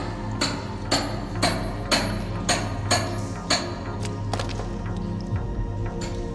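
A hammer striking a chisel, a series of about ten sharp metallic blows at a steady rhythm that fade toward the end, loud and close over a low background hum.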